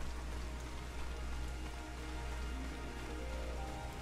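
Steady rain falls in an outdoor town area of the online role-playing game Final Fantasy XIV, a continuous even hiss of rainfall with no talking.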